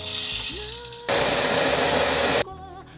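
Coffee beans ground in an electric coffee grinder at home: a loud, steady whirring burst of about a second and a half, starting abruptly and cutting off cleanly, with quieter mechanical hum before and after.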